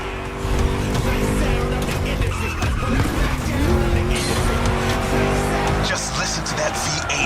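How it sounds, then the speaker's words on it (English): V8 car engine racing in The Crew Motorfest, a loud, steady roar with rising and falling revs and some tire squeal, continuous for about seven seconds. "Just listen to that V8, like a chunky, down-tuned guitar riff."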